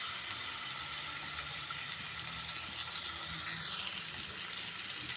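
Pineapple pieces sizzle on a grill pan as grilled pineapple cooks, a steady, even hiss running throughout at moderate level with no talking.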